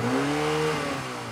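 Car engine revving heard from outside the vehicle, a brief close whirring rev with pitch sweeping up then settling into a steady hum, no voices.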